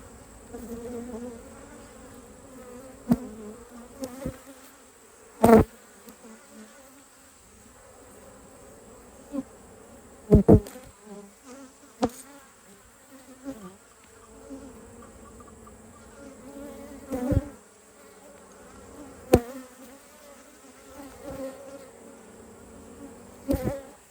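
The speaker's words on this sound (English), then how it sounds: "these are a lot of young bees" Honey bees in an open apiary colony buzz steadily through a late-summer hive inspection, a continuous swarming drone broken by sharp handling knocks and clicks at irregular intervals.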